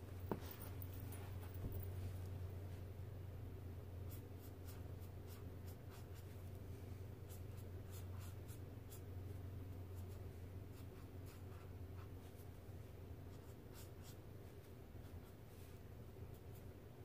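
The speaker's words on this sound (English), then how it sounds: "so I would just be literally inking with the black ink" A pen scratches across paper while inking a figure drawing in black ink, faint, close strokes repeating irregularly over a steady low hum.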